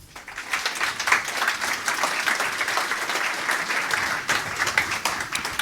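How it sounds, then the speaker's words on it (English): Enthusiastic applause from a sizable crowd, many hands clapping steadily for several seconds at fairly close range. "A warm round of applause to Nico and Kim from the governing board."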